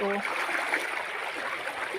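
Steady rushing water roars close by, a dense continuous wash of strong river current too powerful to board a boat, with a brief tonal sound at the start.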